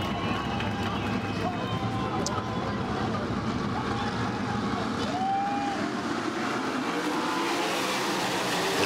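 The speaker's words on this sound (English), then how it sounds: "cars, well, trying to come up to speed a little bit." World of Outlaws sprint cars on the dirt oval at El Paso County Raceway, coming up to speed; a steady, loud engine roar fills the whole clip with crowd noise mixed in.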